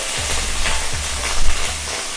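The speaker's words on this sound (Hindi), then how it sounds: "ये प्याज को हल्का सा सौते किया।" Onion and cabbage sautéing in a pan for leftover-roti Hakka noodles, a steady sizzle with a few louder stirring scrapes, close and without talk.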